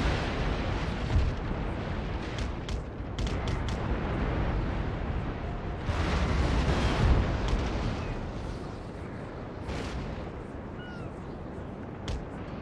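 Naval cannon fire in a Napoleon: Total War sea battle, with heavy booming broadsides and bursts rolling over a dense, constant rumble of battle noise, some shots loud and near, others layered in quick succession.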